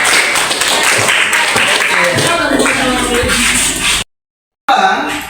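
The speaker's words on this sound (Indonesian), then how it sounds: "tepuk tangan buat teman saya yang maju ke depan." A classroom of students claps for classmates who have just presented, a burst of scattered hand claps and taps lasting about four seconds before a brief silence, then a few more faint sounds.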